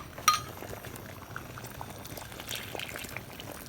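Coconut milk mixture poured into a pot of boiling Jamaican red pea soup with chicken foot and pig tails, a brief splash and clink at the start followed by steady bubbling and simmering, close and moderately quiet, no talking.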